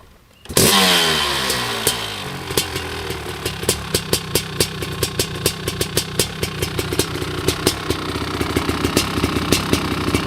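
A 1997 Honda CR500R motorcycle engine, stock and original with new tires, fires up and settles into a steady idle with a loud, close, regular two-stroke popping and a low rumbling throb, running alone throughout.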